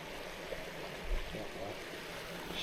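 A clean mountain stream runs through a Lake District valley, a steady soft rushing and trickle of flowing water heard at moderate distance with no other sounds standing out.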